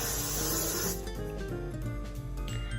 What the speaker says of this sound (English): I'm gonna use the Got To Be glue and I'm gonna spray it the fuck down